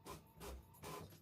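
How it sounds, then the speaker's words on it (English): A home printer whirs and churns in three short, quiet mechanical bursts in quick succession indoors. "If the printer keeps making noises"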